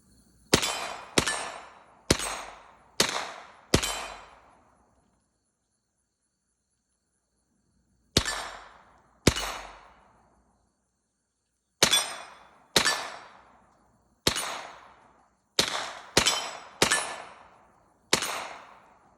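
A rifle built on an AR-15 with a .22LR conversion kit fires about eighteen sharp, loud single shots outdoors, spaced irregularly with a long pause partway through and quick pairs and bursts near the end.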